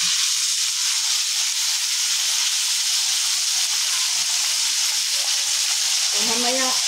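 Bacon sizzles and fries in a pan with a steady, close hiss that stays constant throughout, while a voice speaks briefly near the end.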